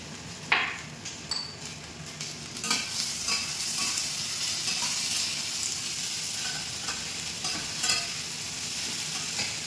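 Fish frying with salt in a pan for a sour fish curry with taro, a steady sizzle with occasional stirring scrapes and light clinks of a utensil, close and fairly quiet throughout.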